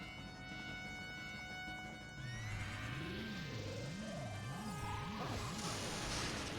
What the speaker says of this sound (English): He is riding that evil horse.